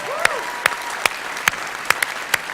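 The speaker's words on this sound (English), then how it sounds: "One more applause, please." Sparse audience applause at an event, heard as about six separate sharp claps spaced roughly evenly, fairly quiet with no talking.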